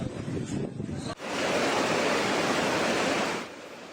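A loud, steady roar of typhoon wind on Camotes Island under signal number 4, buffeting the microphone, rising abruptly and holding for a few seconds before easing.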